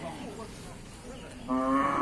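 Cattle moo at a northern Thai livestock market: one low bellowing call comes in near the end over the murmur of the crowd and an auctioneer's voice.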